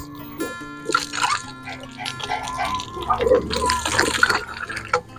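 Water rushes steadily and strongly throughout, close by, with a person talking over the flow.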